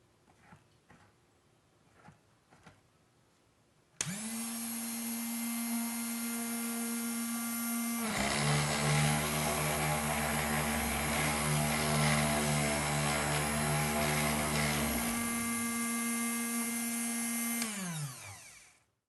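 A Drill Doctor spade bit sharpener runs loudly after a few faint clicks, its motor whine starting abruptly, shifting to a harsher grinding tone midway, then returning to the plain hum before spinning down near the end.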